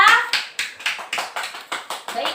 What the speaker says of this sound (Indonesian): beri tepuk tangan kepada kelompoknya Adnanta ya.